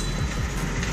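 A loud, steady low rumble of a moving train, with rhythmic rolling thumps and wind-like noise over the whole short stretch.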